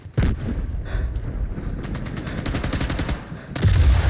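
Gunfire in the shooter video game Sniper Elite 5: rapid, loud bursts of automatic shots with a heavy low rumble, running almost continuously and swelling again near the end, with no talking.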